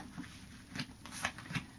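Soft papery flicks and slides of tarot cards being shuffled and laid down, a few quiet, irregular handling sounds close by.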